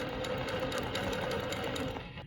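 A longarm quilting machine stitches along rulers with a fast, steady mechanical whir and rapid needle chatter, close and continuous before easing off at the end.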